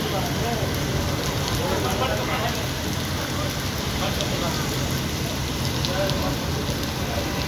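Steady rain falls across a city street in Lahore, a dense continuous hiss of drops on surfaces with faint traffic rumble underneath, constant and fairly loud throughout.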